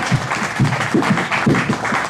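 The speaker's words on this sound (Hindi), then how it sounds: "इनके लिए सब एक बार कम से कम ताली बजाकर उनका स्वागत करें।" A crowd at a police day function claps to welcome a guest, a steady wash of applause lasting a couple of seconds, dense and fairly loud throughout.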